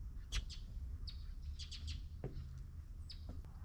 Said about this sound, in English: I wonder if that was the starlings.